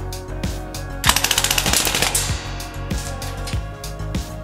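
Northeast MP2A1 UZI gas blowback airsoft gun firing a rapid full-auto burst of sharp, evenly spaced cracks, preceded and followed by a few single louder shots, close and loud with no talk.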